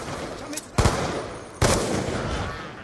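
Video game gunfire with the weapon set to burst mode: two loud, sharp bursts in quick succession, each trailing into a sustained rumble of shots and echo, with no talk over them.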